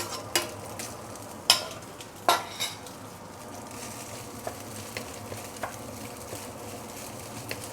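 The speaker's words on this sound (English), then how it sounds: "See, it becomes so much easier to stir fry." Rice steeped in fried garlic oil stir-fried with half-cooked egg in a pan: quiet background sizzle broken by a few sharp clacks and scrapes of a utensil against the pan, close by and fairly sparse.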